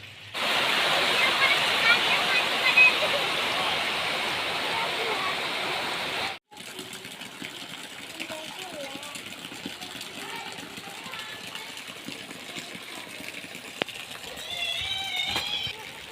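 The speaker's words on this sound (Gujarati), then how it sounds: "આપણા ઘરની આસપાસ કેટલું પાણી ભરાયેલું છે" Floodwater left by heavy rain runs around a village house in Gujarat, a steady loud rushing roar that cuts off abruptly, followed by quieter trickling water and a faint voice near the end.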